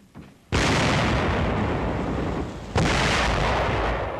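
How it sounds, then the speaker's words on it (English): Heavy gunfire against an enemy pillbox at a city's east gate, from 1944 World War II newsreel footage in China: a loud blast erupts into a sustained roar, then a second blast hits partway through, with no voices. "Opening fire on an enemy pillbox at the city's east gate"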